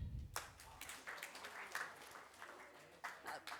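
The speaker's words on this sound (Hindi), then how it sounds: "जो भी मैं काउंटिंग बोलूँगी उतनी बार ताली बजनी चाहिए" An audience in a hall claps in scattered, sharp bursts on a called count, moderately faint, with voices murmuring underneath.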